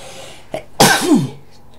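A single sharp sneeze or cough burst, close and fairly loud, preceded by a small throat sound, during a chat about a Lego Minecraft magazine at home.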